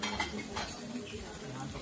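Yellow duck curry sizzles in a hot serving dish, a steady, quiet crackling hiss with faint clinks of cutlery and dishes nearby.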